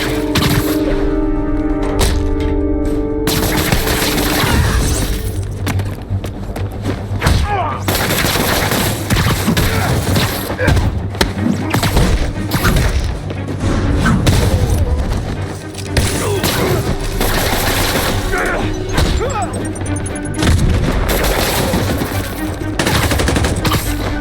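Sustained gunfire from armed enemies during a Marvel's Spider-Man fight, with rapid automatic bursts, heavy thumps and impacts layered over game music, loud and nearly continuous throughout.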